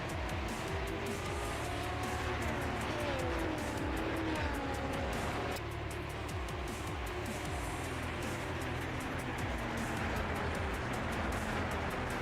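Race cars begin rolling off the grid in an F1-style sim racing game at Bahrain, a dense steady blend of many engines droning and rising in pitch throughout, loud and continuous with no talk.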